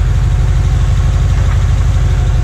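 A rebuilt 1993 Cadillac Northstar 4.6-litre V8 idles after installation, a loud, steady, close low rumble with an even pulsing beat and no talk.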